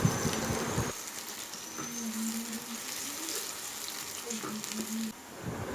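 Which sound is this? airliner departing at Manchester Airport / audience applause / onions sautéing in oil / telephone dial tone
onions sautéing in oil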